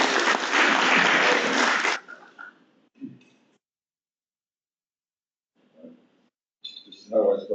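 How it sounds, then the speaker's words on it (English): A burst of audience applause at a live show, loud and dense for about two seconds and then cutting off sharply, followed by near silence with a few faint scattered noises and short sounds near the end. "Round of applause."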